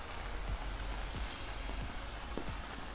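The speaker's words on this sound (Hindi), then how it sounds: "अर्ली इन द मॉर्निंग से बारिश शुरू हो गई है।" Rain falls steadily outside a balcony in Oslo, a soft continuous hiss sprinkled with faint individual drips, heard from close by without any talk.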